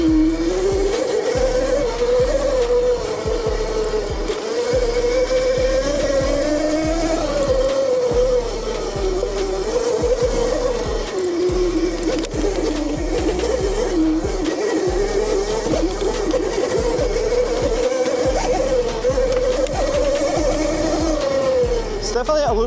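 A Yozma IN10 Pro 60V electric dirt bike fitted with a 6.7 kit rides over rough, rooty ground, its motor whining steadily and close with shifting pitch under constant rattling, with talk over it.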